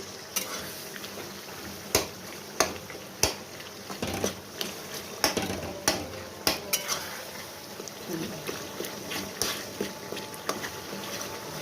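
A utensil stirs cooked, softened tomatoes in a pan for pav bhaji, sounding as repeated scraping clinks and knocks of spoon against metal, steady and close, over a low background of cooking noise.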